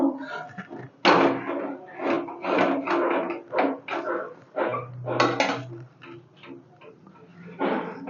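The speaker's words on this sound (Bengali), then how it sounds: "কড়াইটা বসিয়ে দেবো।" A wok set onto a gas stove in a home kitchen while cooking egg curry, producing a series of metallic clanks, knocks and scrapes of cookware, irregular and fairly close, with short pauses between bursts.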